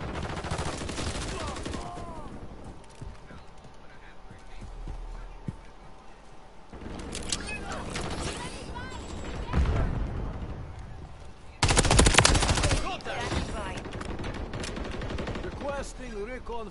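Gunfire in the video game Modern Warfare 3 during beta multiplayer, with steady bursts of shots and loud crackling volleys, one especially dense near the end, under radio-style callouts and talking.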